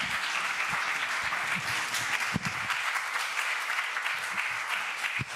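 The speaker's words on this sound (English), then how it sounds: "Can we give them another round of applause?" An audience at a Unitarian Universalist gathering gives another round of applause, a steady wash of many hands clapping at moderate distance, with a few sharper claps standing out, continuing without a break.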